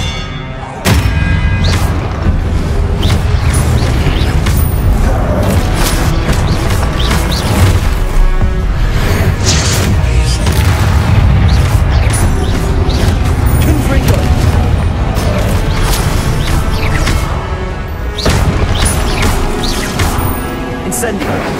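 Repeated Confringo spell explosions blast in the Hogwarts Legacy video game, dense booms, crashes and thuds running almost continuously at loud level, with a voice shouting spell names over the combat.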